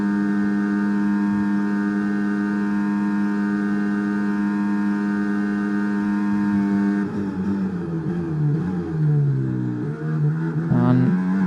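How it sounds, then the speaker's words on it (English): A steady, high-pitched Williams FW46 Formula 1 engine in the F1 2024 video game drones at constant revs along the Las Vegas straight, then shifts and dips as gears change and the tone wavers, loud and continuous throughout. "Let's listen to the engine now in this long straight."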